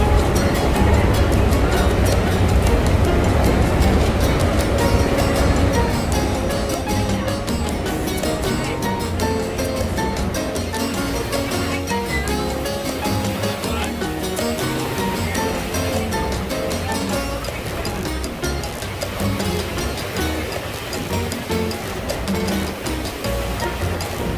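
Niagara Falls on the American side roars as a continuous heavy rush of water, a broad loud wash that stays steady throughout, heard from close by aboard a boat.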